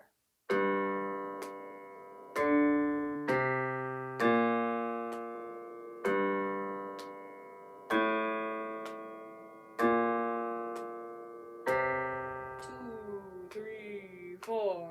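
Piano notes and chords in a low register, struck roughly every two seconds and left to ring, ending on a long sustained tone. No voices.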